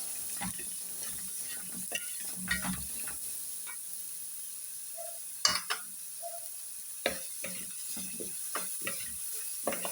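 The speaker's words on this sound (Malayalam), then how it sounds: "അപ്പോൾ നമുക്ക് നല്ല ഇളക്കി കൊടുക്കാം" Onion and carrot frying in a pan, stirred with scattered scrapes and taps of a utensil over a steady low sizzle, the strokes irregular and fairly close, with no talking.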